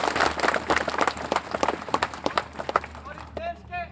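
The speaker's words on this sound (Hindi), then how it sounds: "इस देश के लिए एक बार ताली बजा दीजिए जोरदार।" Scattered, irregular clapping from a gathered crowd at a public speech in Alirajpur, loud individual claps for a few seconds before a speaker's voice returns near the end.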